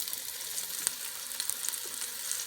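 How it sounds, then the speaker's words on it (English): Fish frying in about four tablespoons of cooking oil, a dense close crackling sizzle with small popping spits, steady and unbroken with no voices. "And just fry them till they take a bit of color"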